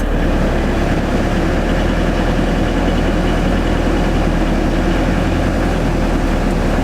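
A vehicle engine idles just after a cold start on a freezing morning, giving off a loud, steady low rumble. It runs unbroken throughout with no voices.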